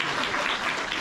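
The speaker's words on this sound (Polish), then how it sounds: "Brawa pani Stasiu." Steady, dense applause from an audience at a women's congress in Wschowa, a continuous wash of clapping with no pauses and no voices standing out.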